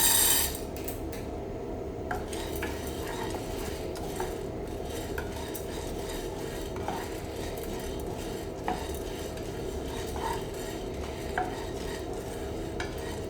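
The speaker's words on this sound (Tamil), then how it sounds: "கடலைப்பருப்பு போட்டு வறுத்துக்கலாம்." Chana dal being dry-roasted and stirred in a pan over leftover oil for curry leaf idli powder, giving steady scraping and rattling of utensil against metal with faint crackle, close and continuous, no voices.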